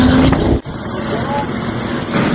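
A Lamborghini Huracan engine revving and accelerating on a coned track at a driving experience, loud and close, with a sharp brief drop in the middle before the engine builds again, under an instructor's voice.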